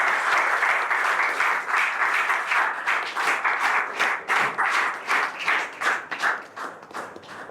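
Members applaud a panelist at a Toastmasters panel discussion, a close group clapping with distinct individual hand claps in a brisk, uneven rhythm that thins out toward the end.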